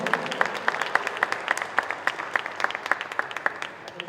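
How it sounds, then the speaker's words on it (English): Audience at a South African indoor football association national futsal league event clapping in a steady round of applause, individual sharp claps standing out in a loose rhythm, moderately close, with no voices over it. "let's give Mr. Seelan Archery a round of applause"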